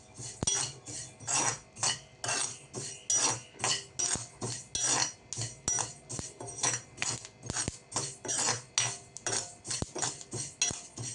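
Sesame seeds, about half a cup, being dry roasted in a pan with a utensil scraping and stirring in a steady repeated rhythm, clinking metal strokes close and clear with no talk.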